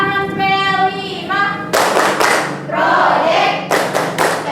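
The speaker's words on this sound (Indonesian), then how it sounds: "Tepuk tangan P5." A school class performs a rhythmic clapping ice-breaker, bursts of hand claps in a patterned beat with thumps, following a teacher's sung or spoken lead; voices are heard between the clapping.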